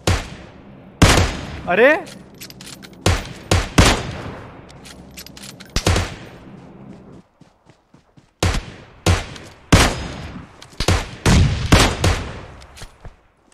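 Gunfire in PUBG Mobile, a series of loud, sharp shots in scattered bursts with short pauses, while someone speaks Hindi between them.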